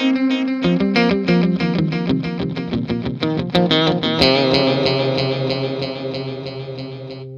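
An electric guitar plays through an Ernie Ball Ambient Delay pedal with full reverb, a quick run of picked notes with repeating echoes that swell into a sustained, washing ambient tail, loud and alone.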